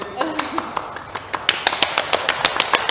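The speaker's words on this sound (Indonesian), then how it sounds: "Tepuk tangan dulu dong ya." Audience applause at a museum exhibition sharing session, a short run of sharp, rhythmic claps that grows denser and louder, with a voice speaking briefly at the start.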